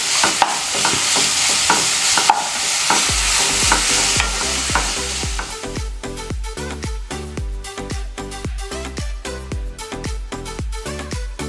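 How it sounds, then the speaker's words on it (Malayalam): Homemade spaghetti noodles stirred in a pan with salt, a steady run of close, rhythmic scraping strokes over a hiss of frying, with no talk. "നന്നായിട്ട് അങ്ങനെ ഇളക്കി കൊടുക്കണം"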